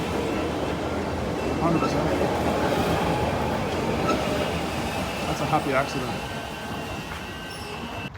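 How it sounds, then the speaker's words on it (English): A Melbourne Sandringham line suburban train pulls away, its steady rumble and faint wheel clatter running throughout under nearby voices. "I'm actually really glad we missed this train."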